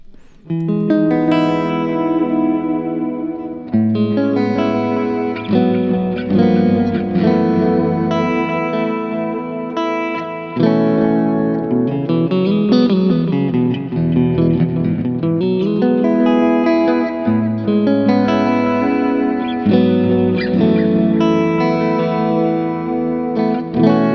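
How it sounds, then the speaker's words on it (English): Ambient electric guitar played through stacked delay and reverb on a Kemper Profiler, sustained chords and notes swelling and echoing continuously, loud and alone with long washy tails. "from there we're going to the delay and reverb, and they're stacked in that one button there, and that's just for my ambient tones, and it sounds like this"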